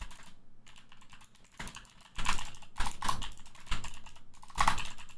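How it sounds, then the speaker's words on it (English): Bursts of typing on a computer keyboard, a few quick flurries of key clicks separated by short pauses, fairly close and clear with no voices. "I'm so bad at typing."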